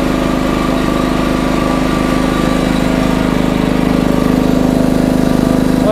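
An Edon 3300 petrol generator runs steadily up close, its engine droning loud and even with a constant buzzing hum and no pauses.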